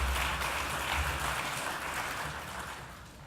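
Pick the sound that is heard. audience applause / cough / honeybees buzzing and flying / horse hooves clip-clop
audience applause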